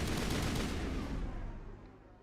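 Gunfire from the video game Mass Effect, a loud, dense burst of shots that fills the clip and slowly fades toward the end, with no voices over it.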